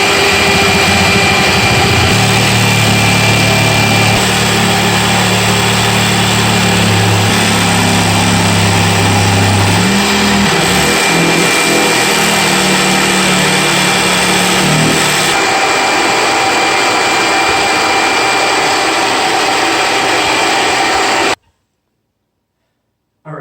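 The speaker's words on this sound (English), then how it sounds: "we need to turn the vacuum on again" Vacuum cleaner running loud and close during in-ceiling speaker installation, a constant droning whine whose pitch shifts a few times before it cuts off abruptly near the end.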